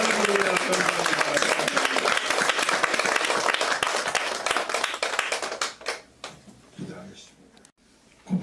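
A church congregation claps in thanks during a revival service for building a new sanctuary, dense loud applause for about six seconds before thinning into scattered claps and fading, with some voices mixed in.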